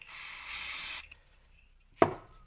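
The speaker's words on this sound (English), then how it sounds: "Probably a bit of a spray down will get that." A seized, rusted Thunder Tiger Pro 21 nitro RC glow engine gets a spray down in one soft, hissing burst of about a second, followed by quiet and a brief sharp knock.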